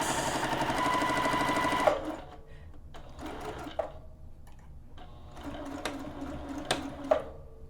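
A sewing machine back stitching a dog bandana runs in a loud, dense mechanical whir for about two seconds, then stops, followed by quieter intermittent clicks and short bursts of handling.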